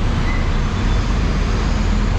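Steady, loud road traffic roars along Quirino Highway near a construction site on a narrow, badly damaged road, a dense continuous rumble of passing cars and heavier vehicles with no pauses.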